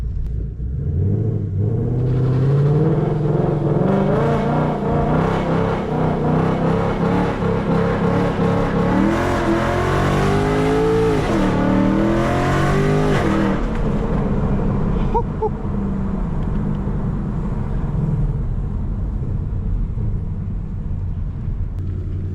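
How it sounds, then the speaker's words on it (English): A loud S550 Ford Mustang engine roars and revs while doing donuts, rising in pitch mid-way as it accelerates, then settles back to a deep rumble. "I haven't really done this a lot, and my car is really loud."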